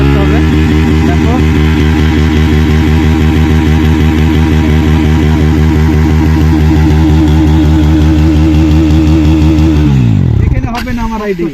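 A Pulsar NS160 motorcycle engine held at loud, steady high revs with the rear wheel spinning to dig into the ground, a continuous throbbing drone that cuts off abruptly near the end.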